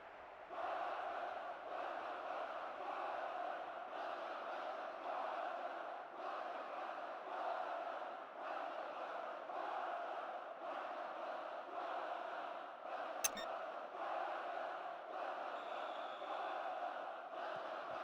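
Capacity crowd at a Barcelona versus Arsenal football match, a steady roar of many voices filling the stadium throughout, with one sharp brief crack near the end.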